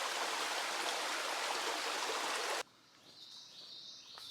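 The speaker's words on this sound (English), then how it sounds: "There's the Trade River." The Trade River flows as a stream with a loud, steady rushing hiss that cuts off abruptly partway through, leaving quiet outdoor air with faint bird calls.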